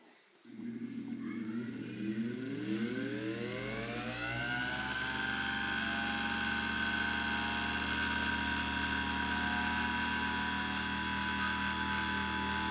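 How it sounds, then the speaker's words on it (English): An electric motor from a Singer 201-2 sewing machine, run on a rheostat test cord, spins up over the first few seconds with a rising whine, then holds a steady, loud, even hum with no talking. "I've actually made up a cord with a rheostat built in so I can test them before I put them back on the machine."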